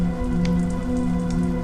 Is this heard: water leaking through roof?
yes